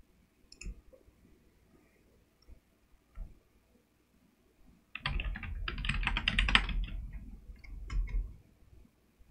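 Someone types on a computer keyboard: a few isolated, quiet key taps, then a rapid, close burst of clicking keystrokes for about three seconds before it thins out again.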